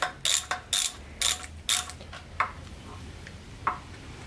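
Ratchet clicking while a drain bolt is loosened on a Yamaha 150SHO four-stroke outboard, sounding as a quick run of sharp, close metallic ratcheting bursts followed by a few sparse clicks.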